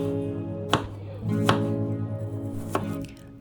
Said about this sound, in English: I started by finely dicing 1/4 of an extra large white onion and 2 cloves